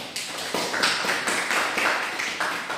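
A primary-school religion class claps on cue in a quick, rhythmic pattern of sharp bursts, evenly spaced and moderately close, with no talk over it.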